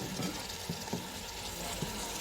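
Tomatoes and chillies hitting hot oil in a pan for bhindi salan, giving a steady crackling sizzle with a few soft stirring knocks, close and without talk.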